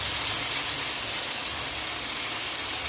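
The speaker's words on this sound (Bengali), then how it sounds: "আলু পটল এখন আমি ঢেলে দিলাম।" Potatoes and pointed gourd tipped into a hot pan of fried spices for a hilsa curry, giving a steady, loud broadband sizzle and hiss that holds evenly throughout with no talking.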